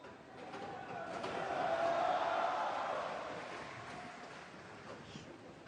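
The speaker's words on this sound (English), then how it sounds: "You can hear the applause." Applause from a snooker crowd at the Shanghai Masters swells into a broad, steady wash of clapping that peaks mid-clip and then fades, heard at a distance under faint commentary.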